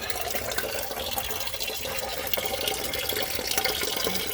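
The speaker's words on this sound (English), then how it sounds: "So we're draining the radiator now." Coolant runs out of the radiator of a 2016 Cummins ISX15 truck engine in a steady, continuous watery splash, fairly close and alone.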